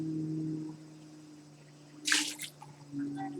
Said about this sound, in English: there's a drip sound